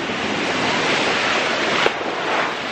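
Surf breaking on a beach makes a steady broadband wash with a brief louder splash near the end, and light wind buffets the microphone. No voices.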